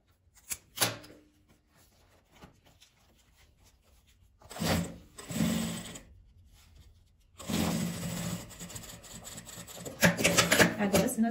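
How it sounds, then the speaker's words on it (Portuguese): A sewing machine stitching clear plastic for a handmade plastic case with a handle: short bursts of rapid mechanical stitching separated by quiet pauses, the longest run near the end, close and moderately loud. "no plástico cristal a gente não pode ficar costurando muito, porque senão ele rasga"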